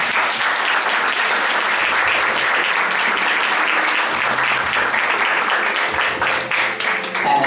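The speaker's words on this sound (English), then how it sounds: "And they also get a big round of applause." Loud, sustained applause from a live drag show audience in a bar, a thick continuous wash of many hands clapping that holds steady and begins thinning near the end, with faint voices underneath.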